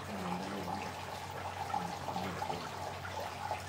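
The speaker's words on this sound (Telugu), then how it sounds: "దీంట్లో కూడా వాటర్ అనేది ఫస్ట్ లేయర్ పైన వచ్చేసి మనకు దాంట్లోకించి మనకు డ్రాపింగ్ అయ్యి కంప్లీట్లీ 3 లేయర్స్గా డ్రాప్ అవుతుంది" Water trickles steadily down three tiers of a silver fountain, a faint, continuous splashing with small drips, heard alone.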